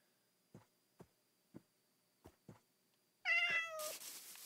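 A cat in a video game gives a short game meow near the end, preceded by several soft evenly spaced thumps over a quiet hum, then a burst of brighter noise.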